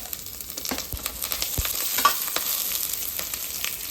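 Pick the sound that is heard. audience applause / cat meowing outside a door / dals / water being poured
dals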